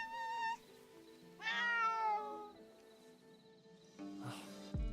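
Cats meow in a video game, with several long, tonal mews one after another, clear and fairly close, over a quiet musical background with no talking.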